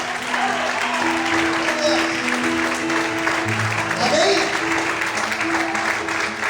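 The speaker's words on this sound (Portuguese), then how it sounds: "Será que você pode exaltar e aplaudir ao Senhor essa noite?" A church congregation applauds at an evening service, a dense continuous clapping with voices and sustained tones mixed underneath throughout.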